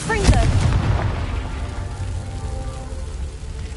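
A Confringo spell explodes in Hogwarts Legacy with a sharp, loud burst that fades into a rumbling crackle. Low debris-like noise trails off over a few seconds.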